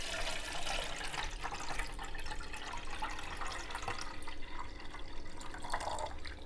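Filtered water pours steadily into the removable water tank of a Milky Plant nut milk maker, a continuous close splashing fill with faint drips and no talking.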